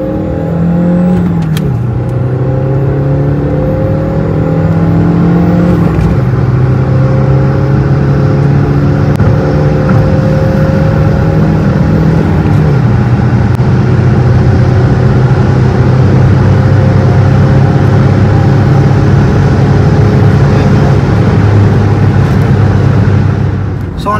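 A modified Stage 2 VW Polo TDI diesel accelerates hard from about 2500 rpm, its engine note climbing steadily and loudly with a gear change partway, heard from inside the car without talk.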